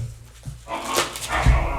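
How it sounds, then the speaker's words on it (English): A puppy barks and whimpers during a squabble with another dog indoors, giving short, close, sharp yips and whines in a quick irregular burst with no talk over it. "the pup's having a little bit of disagreement, I think, with Nala."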